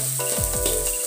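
Dried chili paste sautés in oil in a wok, a steady loud sizzle with repeated stirring scrapes sweeping through it.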